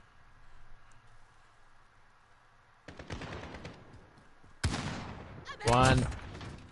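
AK rifle fire in Call of Duty: Modern Warfare, starting quiet and then breaking into loud bursts of close gunshots in the final seconds, with a voice talking over part of the action.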